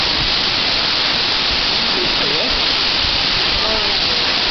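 Kamieńczyk waterfall in Szklarska Poręba, a dense, steady roar of falling water filling the whole stretch at close range, broadband and constant, with faint bird chirps barely showing through.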